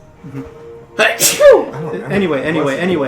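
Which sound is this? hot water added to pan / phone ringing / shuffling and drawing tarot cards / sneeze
sneeze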